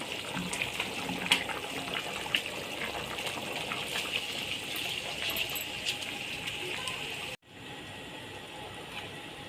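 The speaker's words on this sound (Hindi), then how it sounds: "अब हम इसमें चावल ऐड करते हैं।" Rice poured into a pot of boiling water while making chicken biryani: a steady rushing, bubbling wash of water fills most of the stretch, then cuts off abruptly and returns as a quieter, even simmer.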